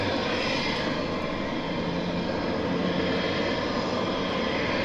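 Eurofighter Typhoon jets at Southend Airport make a loud, continuous broadband roar that holds steady throughout, close and overwhelming, with no other sounds breaking through.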